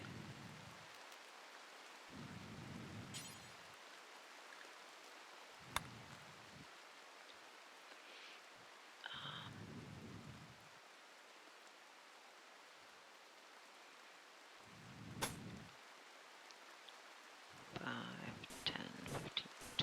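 Steady rain ambience with occasional low thunder rumbles from the survival game RimWorld, quiet and continuous, with a few sharp clicks and brief speech-like sounds scattered through it.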